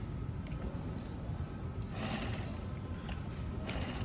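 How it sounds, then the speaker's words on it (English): A sewing machine stitches a pocket seam a quarter inch in, a steady mechanical whirr with a fast rhythmic needle clatter running the whole time, close and continuous with no talking. "So I'm gonna stitch here at 1/4 of an inch."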